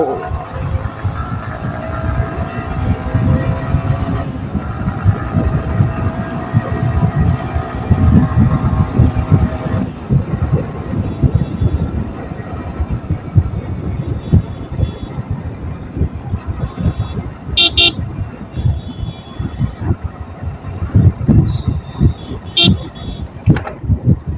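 A Yamaha R15 V3 BS6 motorcycle ridden through city and highway traffic, a loud continuous engine drone with rising and shifting pitch under buffeting wind, with brief horn toots from nearby traffic.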